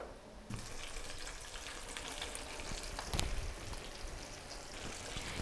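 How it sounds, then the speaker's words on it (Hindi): Coated chicken for a homemade crispy Zinger deep fries in hot oil over a medium flame, a steady dense sizzle and crackle close up with a few sharper pops, no talking. "चिकन की कोटिंग करने के बाद हम इसको डीप फ्राई करेंगे।"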